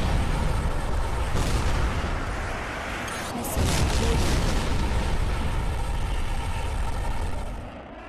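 Missile explosion in the HAWX jet combat game, a loud rumbling boom swelling amid roaring aircraft engine noise, close and sustained before fading.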